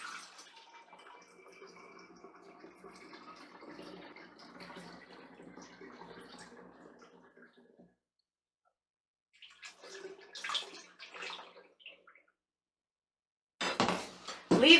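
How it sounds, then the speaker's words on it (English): Dandelion wine pours and splashes through a funnel into bottles in a long steady stream, then stops; after a pause, brief clinks and a short louder splash of liquid follow. "I'm going to pour it into these bottles"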